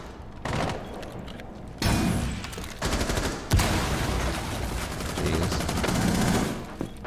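Rapid bursts of gunfire in the tactical shooter Rainbow Six Siege, loud and close, with several volleys and sharp single cracks spread across the stretch and no talking.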